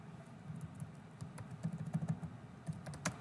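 Quiet clicking of keys on a computer keyboard, a few scattered taps and then a quick burst of typing in the middle, ending with one sharper click, heard close and soft with no voices.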